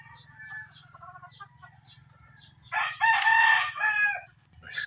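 A freshly bathed rooster crows loudly and close by, a drawn-out crow near the end, with softer clucks earlier over a steady low background hum.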